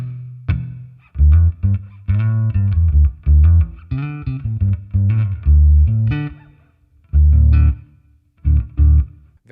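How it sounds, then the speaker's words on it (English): A bass guitar played through an amp simulator with a reverb block switched on, picking a series of deep, punchy notes and short phrases with pauses between, each note trailing into a subtle wash of reverb. "Let's go ahead and turn that reverb block on."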